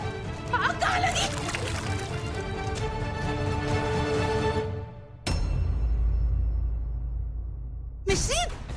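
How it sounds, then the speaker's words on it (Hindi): Water is poured over a person indoors in a TV drama scene, a loud sustained splashing pour after a stretch of lively activity, cutting off abruptly with a brief voice at the end. "मिश्री, तुम मेरे ऊपर पानी क्यों डाल रही हो?"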